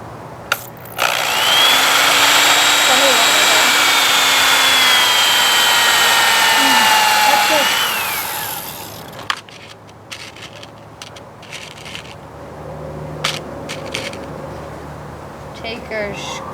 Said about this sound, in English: So, we'll drill on that line.